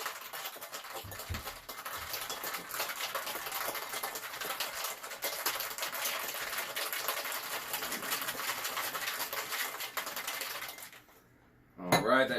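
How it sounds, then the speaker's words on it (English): A Painkiller cocktail shaken hard in a shaker, a dense, steady rattle of ice and liquid running for about eleven seconds before it stops abruptly and a brief louder clatter follows. "Give it a nice shake."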